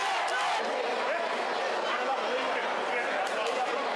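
A large stadium crowd roars and cheers at a sports match, a dense, steady wall of many voices that stays loud and unbroken throughout.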